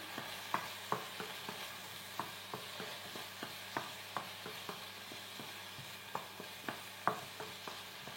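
Snails cooking in tomato sauce, a soft steady simmer broken by regular light bubbling pops, fairly quiet and close.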